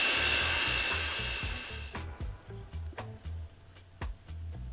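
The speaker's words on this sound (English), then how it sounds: "And of course I am mixing it with my hand mixer." An electric hand mixer creams sugar into a stick of butter, a loud steady motor whine that cuts off partway, followed by a series of soft thumps and knocks.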